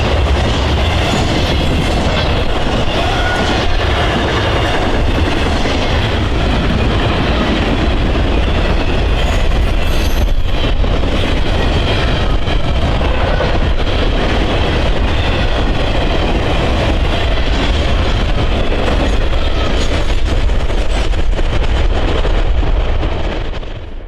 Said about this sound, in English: we caught Norfolk Southern 21M as it continued westward